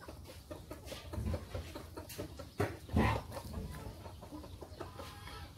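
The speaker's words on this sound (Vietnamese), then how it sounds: "Có con gà nòi bự quá cả nhà." Gà nòi fighting-breed chickens on a farm beside wide rice fields, clucking steadily and fairly close, with a louder burst of calls partway through and no talk.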